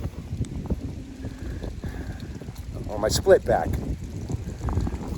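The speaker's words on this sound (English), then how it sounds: "Sorry about the wind. It's a little breezy out here." Gusty outdoor wind buffets the microphone on a breezy day on Long Island, giving a rough low rumble throughout while someone talks over it.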